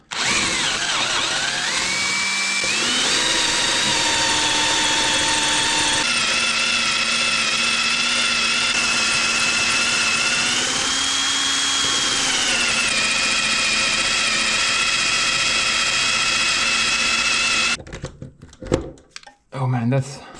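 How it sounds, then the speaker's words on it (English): A power drill grinds steadily through a hardened bolt, its loud, sustained whine wavering slightly in pitch before cutting off near the end, followed by a few brief knocks. "It's really hard to drill through it."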